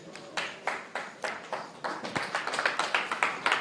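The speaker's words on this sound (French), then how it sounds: "Ça applaudit dans tous les sens" Scattered hand claps from a small group at a poker tournament table, a loose irregular patter of individual claps rather than a full ovation, fairly quiet.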